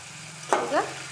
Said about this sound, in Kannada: ತೊಂಡೆಕಾಯಿ ಎಣ್ಣೆಯಲ್ಲೇ ಚೆನ್ನಾಗಿ ಫ್ರೈ ಆಗಬೇಕು